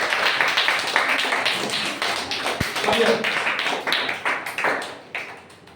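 Loud, dense applause from an audience at a school competitive-exam prize event, a steady wash of many hands clapping for several seconds before slowly thinning out toward the end.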